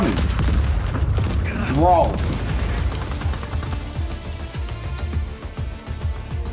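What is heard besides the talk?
explosions and gunfire in Just Cause 4 video game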